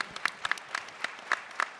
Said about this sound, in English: Don't clap for your own products.